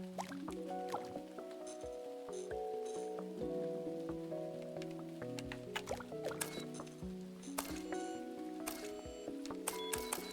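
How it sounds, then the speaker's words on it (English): Video game rain patters and drips steadily on a surface, with scattered sharper droplets throughout and no voices. "Still raining though."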